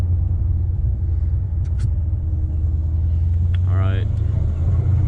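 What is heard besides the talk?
Dodge Challenger ScatPack long tube header exhaust coasting downhill in first gear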